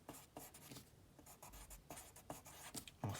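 A pen scratches out a title on a paper sketch map, faint close strokes in short bursts with brief pauses between them.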